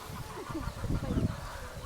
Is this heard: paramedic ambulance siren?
no